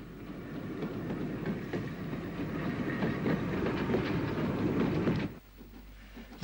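A UG Class 0-6-0 steam locomotive, number 47, speeds through Lisburn toward Belfast on a crisp March morning in 1964, giving a steady rumbling roar of wheels and rail clatter that cuts off sharply near the end.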